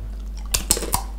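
Someone bites into a crunchy, spicy snack, giving a few sharp crunches close to the mic over a low steady hum, with no talking.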